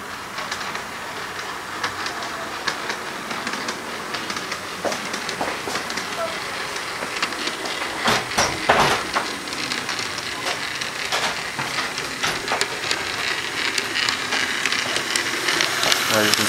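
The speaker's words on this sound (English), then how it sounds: "as soon as the train passes, the signal changes to a red." A train rumbles and rattles past steadily, with a broad hissing wash of noise and clacking bursts, and talk can be heard beneath it.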